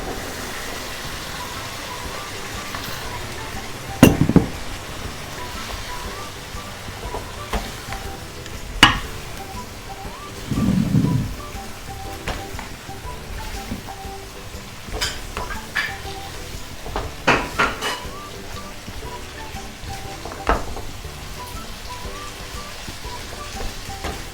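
Four potatoes with pickle spices cook in a pan for aloo achar bhujia, giving a low steady sizzle punctuated by several sharp clanks and scrapes of stirring, with no talk.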